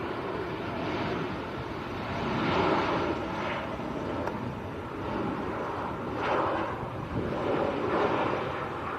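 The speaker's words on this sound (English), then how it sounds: "Very nice KLM from Amsterdam. Embraer E190." KLM Embraer E190 jet at Manchester Airport, a steady broadband roar of engine noise that swells and fades over several seconds, heard from a distance amid wind buffeting.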